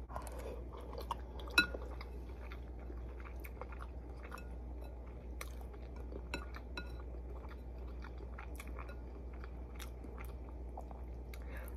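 Ramen noodles with eggs being chewed and bitten at close range, steady soft wet mastication with occasional crunches and faint clinks of a bowl or utensil over a low constant hum, no talking.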